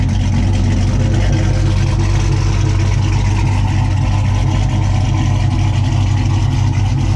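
A procharged 2006 Dodge Charger SRT8 engine runs at a steady, deep, loud rumble for several seconds without letup.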